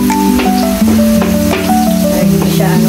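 Garlic frying in a home kitchen pan, a sizzle with scraping stirring strokes and clinks of a utensil, close and fairly loud, with faint tonal sounds running alongside.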